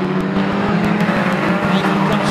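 Race cars roar around an oval track during an evening Trackstar meeting, a loud continuous engine drone with passing surges under a race commentator's voice.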